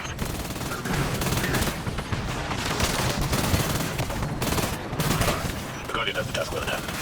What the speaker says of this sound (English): Your voice bears well against the gunfire